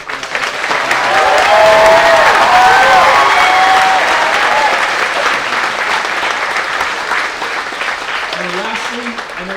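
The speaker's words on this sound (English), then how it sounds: "So let's give them a round of applause" Audience applause at a nursing pinning ceremony, family and friends clapping loudly with some cheers and whoops, swelling early then holding steady before tapering as a voice begins near the end.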